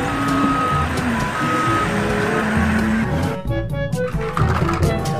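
Repeated electronic reversing beeps from a toy dump truck pulse steadily over a busy, noisy background.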